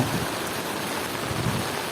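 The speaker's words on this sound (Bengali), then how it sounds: "প্রচুর বৃষ্টি হচ্ছে" Heavy monsoon rain falls steadily around a village, a dense, even hiss that fills the whole stretch with no let-up and no voices.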